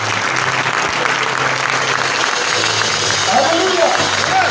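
A church congregation at a French-language worship service breaks into loud, sustained applause and cheering for Jesus, a dense crowd roar that continues the whole time as a voice rises over it near the end.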